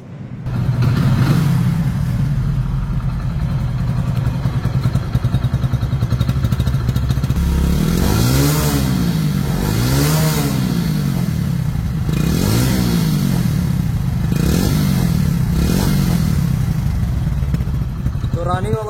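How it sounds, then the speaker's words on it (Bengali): A Hero Splendor Plus 2023 motorcycle engine runs close by at a steady idle, then is blipped several times in quick swelling revs that rise and fall before settling back. "এখন গাড়িটির সাউন্ড সম্পর্কে আসি। সাউন্ড শুনলে বুঝতে পারবেন যে ইঞ্জিন কোয়ালিটি কতটা সুন্দর আছে।"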